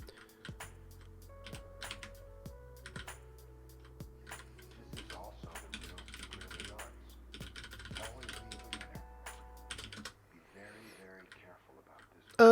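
Computer keyboard typing in quick clattering bursts, a long run of close, crisp key clicks during a live coding session in the vi editor.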